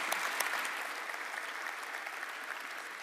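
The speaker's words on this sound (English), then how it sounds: "Round of applause, ladies and gentlemen." An audience at a FIFA football conference analysing the 2019 Women's World Cup applauds, a dense, moderately distant wash of clapping that slowly softens.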